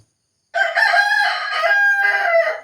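A fighting rooster crows loudly and close by, a single drawn-out call that begins after a brief silence and rings on for about two seconds with a wavering, strained tone.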